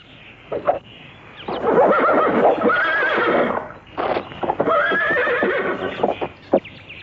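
A horse neighs loudly twice in long, shrill whinnies, with a few snorts and hoof sounds between, close by and with no talking.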